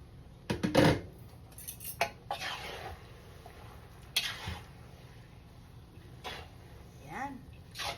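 A metal lid clatters off a pot of pancit with bell pepper and celery, followed by scattered clinks of pots and utensils in a home kitchen, with someone talking over the sounds.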